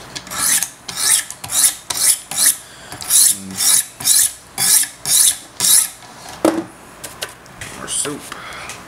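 A Wicked Edge sharpener's stones stroke along the edge of a large Sebenza 21 Insingo knife, making about a dozen rhythmic, close rasping scrapes in a steady back-and-forth pattern.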